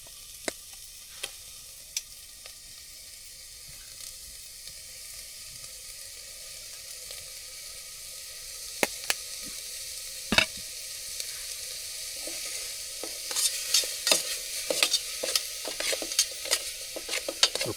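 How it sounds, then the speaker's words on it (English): Food sizzles steadily in a pan on a Hori 5 wood stove inside a hot tent at a snowy campsite, with scattered ticks and pops of frying growing busier toward the end, close and moderately loud. "We already got the sizzle."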